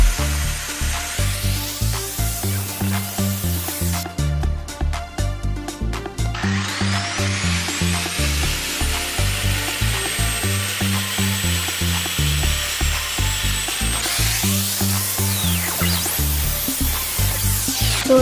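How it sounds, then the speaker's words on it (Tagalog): A grinder cuts through a thick plant pot during repotting of a giant Alocasia, a loud continuous whine with rhythmic pulsing grinding, shifting pitch and hissing bursts as the blade bites, close and alone without speech. "kailangan natin gamitan ng grinder"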